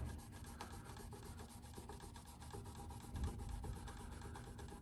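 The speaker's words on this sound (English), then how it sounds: "Rag, and just wipe off the excess, rub it in." A rag rubs oil into the wood of an all-rosewood Takamine guitar, producing a quiet, continuous scrubbing and rasping texture with faint repeated strokes, close but low in level.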